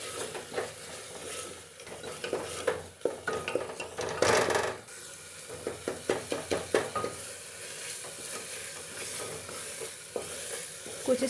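Finely chopped tomatoes mashed and stirred in a sizzling pan while cooking into a masala for black chickpea curry, with a continuous fry hiss, repeated spoon scrapes and pressing squelches, close up and without talking.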